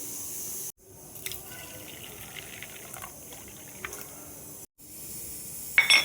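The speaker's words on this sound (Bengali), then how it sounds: "এগুলো আমি জল দিয়ে এখন ভিজিয়ে রাখবো।" Water poured over pumpkin seeds, sunflower seeds, flax seeds, dates and grapes in a bowl to soak, a steady close splashing pour that breaks off twice briefly, with no talking.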